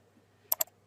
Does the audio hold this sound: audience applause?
no